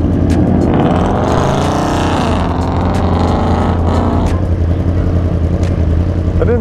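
A Ford Mustang with the 5.0 Coyote V8 and ten-speed automatic is driving, its loud, steady engine drone filling the cabin and rising and falling slightly in pitch as it runs.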